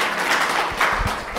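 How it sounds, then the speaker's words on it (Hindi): A classroom audience claps and cheers after a student gives a correct answer at a World Iodine Day health talk, a short burst of applause rising near the end amid a noisy room. "सही बोले संचिता के लिए जोरदार तालियां"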